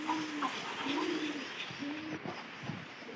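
Pigeons at a loft coo in repeated low, throaty phrases as their young are fed extra food on a rainy day, steady and close over a soft background hiss, with no talking.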